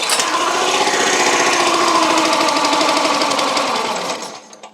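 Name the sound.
wood splitter engine with new carburetor trying to start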